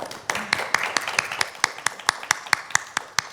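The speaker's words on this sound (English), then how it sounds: "Let's give our panel a round of applause." An audience applauds a panel discussion with sparse, clearly separated hand claps falling into a loose steady rhythm, fairly close and moderately loud, with light room murmur behind them.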